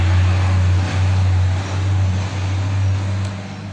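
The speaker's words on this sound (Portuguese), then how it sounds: "Desculpa o caminhão." A truck passes close by, its loud, steady low engine rumble droning throughout with slight swells and dips, and no voices.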